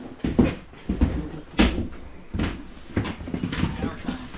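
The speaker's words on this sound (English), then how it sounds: "So we always hold on to our doors here and you pass it on to the person behind you and then close it" A door held against strong wind and then shut at Union Glacier camp in Antarctica, giving several thuds and knocks with wind noise between them, under a person talking.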